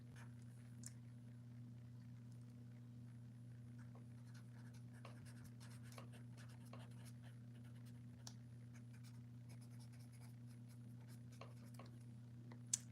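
Pen scratching steadily on paper as someone jots a note by hand, faint soft strokes over a constant low electrical hum, with no talking.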